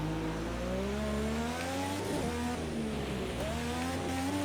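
A race car accelerates hard in a dirt racing video game, its steady engine note climbing through the revs and shifting up several times, loud and continuous with no voices over it.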